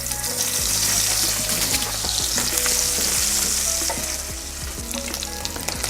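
Sausage frying in rendered bacon fat in a pot, a loud close crackling sizzle with stirring scrapes and clinks running throughout, no voices.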